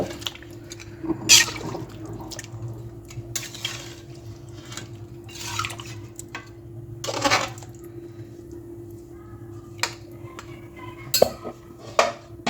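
Chicken pieces are stirred with milk in a pot, giving scattered light clinks and scrapes of a utensil against metal over a low steady background hum, faint and unhurried.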